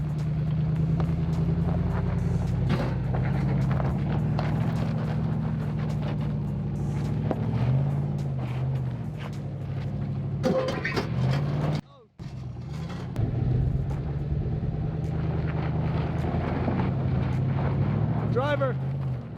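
A Jeep LJ stuck in an off-road rut revs its engine repeatedly, a low rumbling roar rising and falling in bursts, with a brief cut midway and talk over it.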